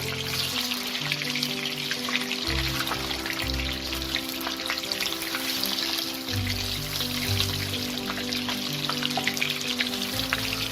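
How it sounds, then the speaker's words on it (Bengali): Steady, dense sizzling of fish pieces browning in hot oil over slow-to-medium flame for chilli fish, continuous crackle throughout with soft stirring clatter, close and fairly loud, no talking. "মাছের পিসগুলোকে আমি স্লো টু মিডিয়াম ফ্লেমে খুব ভালো করে ফ্রাই করে নেব।"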